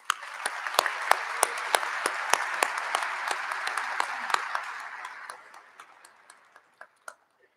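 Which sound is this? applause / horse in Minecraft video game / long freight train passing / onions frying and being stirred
applause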